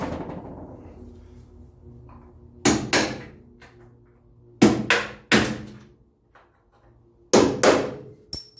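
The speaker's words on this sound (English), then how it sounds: "I'd just take the heads off them couple of rivets that's there as well, and I'll get that and pop them out" Sharp metallic hammer blows knocking the heads off rivets on a Land Rover Series rear quarter panel, in spaced clusters of two or three loud ringing strikes with quiet pauses between.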